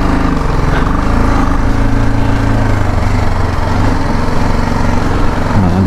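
A motorcycle engine running close by during a forest trail ride, loud and steady with a buzzing, humming drone whose pitch shifts briefly near the end.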